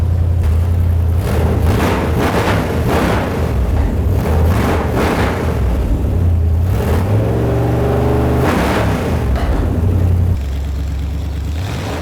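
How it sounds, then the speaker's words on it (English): A 375-horsepower car engine revving hard in several loud, close bursts that rise and fall, then settling back toward idle near the end, with no talk. "Rev it up."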